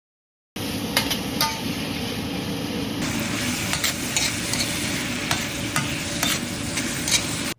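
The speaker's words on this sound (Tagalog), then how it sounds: "igigisa na natin yung ating mga bawang sibuyas, kamatis at pati na nga rin luya" Garlic, onion, tomato and ginger sizzle steadily in hot olive oil in a frying pan as they are sautéed and stirred, a dense continuous frying hiss with small scraping stirs throughout.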